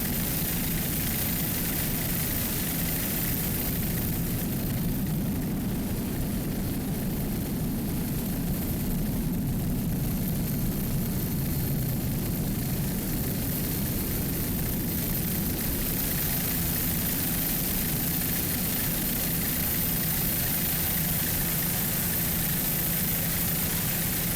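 Offshore racing boats with outboard engines, including a Super Stock Cat Outboard class catamaran, roar at the 2005 Race for Recovery off Fort Myers Beach, a continuous loud engine drone with wind and water noise, no speech.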